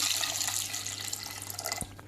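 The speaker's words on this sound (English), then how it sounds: "Add about 1 and a half glass of water." Water poured from a glass into a pressure cooker holding Alfonso and raw mangoes, a steady splashing flow for about two seconds that tapers off.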